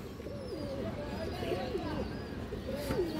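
A female pigeon coos in repeated, wavering phrases, close and steady, with someone talking over it throughout.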